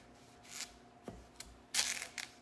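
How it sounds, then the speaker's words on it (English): A knife cuts lengthwise through a sweet potato, making a few quiet, scattered crisp slicing and scraping sounds, with one sharp thunk on the board and a brighter scrape near the end. "So we're gonna cut our sweet potato"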